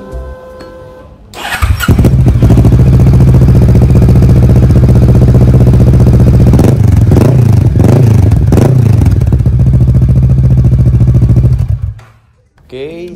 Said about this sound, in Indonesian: buat teman-teman yang penasaran mau dengerin suara dari IR6N dengan menggunakan knalpot Acrophonic